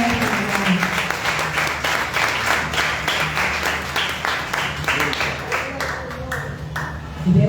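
A church congregation clapping together in a steady, rhythmic applause that fills the room, with a voice speaking over the clapping for parts of it.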